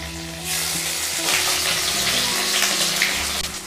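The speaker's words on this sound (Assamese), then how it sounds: "মই পনীৰখিনি অলপ ভাজি লম।" Paneer frying in hot refined oil in a kadai gives a loud, continuous sizzle that swells after a quiet start and hisses steadily throughout.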